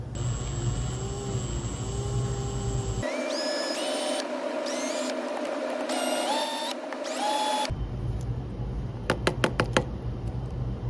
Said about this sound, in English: what I always do is just drill off these little caps here